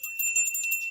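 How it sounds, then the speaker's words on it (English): A hand bell is rung at a live charity show, a brief bright metallic ringing with quick pulsing tremor, close and clear, with no talk over it. "Do I get to ring my bell?"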